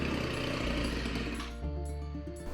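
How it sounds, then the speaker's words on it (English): A Ryobi 4-cycle weed wacker engine runs at a steady, buzzing idle close by, its rattling drone easing slightly toward the end. "And then the engine starts right up with no issue."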